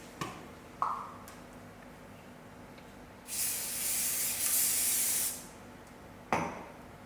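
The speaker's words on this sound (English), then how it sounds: "we'll now prepare our trays with spray and cook" Cooking spray hisses onto baking trays in a kitchen in one sustained burst of about two seconds. A few sharp clanks of trays being handled come before and after it.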